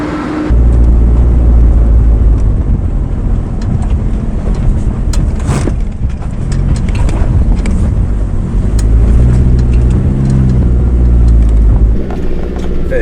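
A 4WD vehicle creeps down a steep drop-off in low range, first and second gear, its engine a steady close drone with wind buffeting the microphone throughout, no talk.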